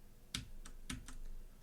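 Keys on a computer keyboard are pressed, giving several crisp, distinct clicks spaced irregularly in a quiet room.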